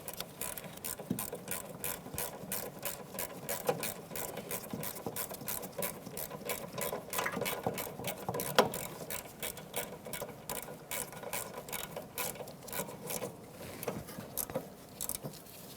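A ratchet fitted with a 10mm socket clicks rapidly and continuously up close, tightening bracket nuts on a Toyota RAV4 during rear ABS wheel speed sensor replacement, the pawl ticking in fast even bursts.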